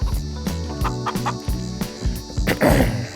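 Chickens clucking in the video game Farming Simulator 25, in a coop with red heat lights on an island map in Kentucky; steady repeated clucks over a dense background of game music.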